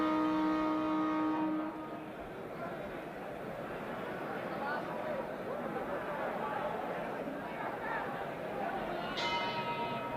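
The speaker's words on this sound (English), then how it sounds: "The bell for round 8." A boxing ring bell sounds for round 8 of the Muhammad Ali versus Oscar Bonavena world title fight. A ringing clang decays over about two seconds over a murmuring arena crowd, and another bell strike rings out near the end.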